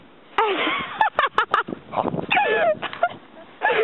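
A dog playing outdoors in the snow gives a quick run of sharp yips and whimpering whines, then a busier stretch of wavering excited cries, all close and fairly loud.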